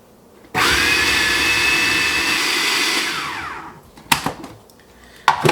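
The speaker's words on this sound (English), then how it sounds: "Now just process this until it becomes smooth" Food processor motor blending cheesecake filling with sugar and almond extract, starting abruptly, running loud and steady for about three seconds, then winding down, followed by a few short clattering knocks.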